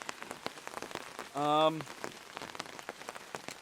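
Steady rain patters on surfaces in a stormy woodland, soft and continuous, with a brief voice in the middle.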